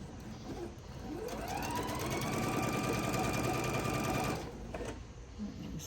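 A sewing machine stitches quilt pieces for a Christmas tree table runner, close and fairly quiet. Its motor winds up into a steady whirring run of a few seconds and then stops, with light handling noise on either side.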